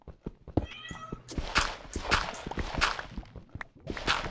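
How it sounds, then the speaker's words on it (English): A pet cat meows several times up close, short repeated calls mixed with soft thumps and footstep-like taps, quiet overall. "I have no idea why my cat is acting such a fool"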